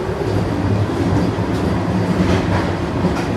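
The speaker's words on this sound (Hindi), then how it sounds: "काफ़ी फास्ट ट्रेन है" A fast train heard from inside a passenger carriage: a loud, steady rumble of wheels on rail with faint rhythmic clatter running continuously, no talking.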